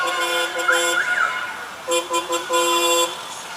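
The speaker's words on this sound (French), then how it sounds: "Le coup de klaxon, c'est parti. Ah, mais ça relève le niveau des klaxons d'un coup." Car horns honk repeatedly in two bursts, loud and close, with a steady tonal blare and a few warbling notes, separated by a short pause.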